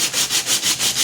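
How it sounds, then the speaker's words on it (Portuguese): Sandpaper rubs back and forth over a cold porcelain vase, smoothing its rim in steady rhythmic strokes, about six passes in a second, close and fairly loud with no talking. "é vocês colocarem, né, a lixa na superfície e passarem mesmo até a hora que você conseguir que ele fique mais uniforme"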